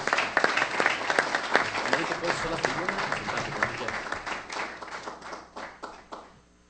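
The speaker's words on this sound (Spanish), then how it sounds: "Les pido por favor un fuerte aplauso para recibir a uno de nuestros 3 invitados de honor" Audience applause at a Masonic gathering in Mexico as a guest of honour is welcomed, dense and lively clapping from many hands that continues steadily, then fades toward the end.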